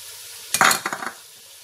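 Spices hit hot oil in a pan for spaghetti qeema sauce, giving a sudden loud sizzle followed by a few short stirring scrapes that quickly fade, close and with no talking.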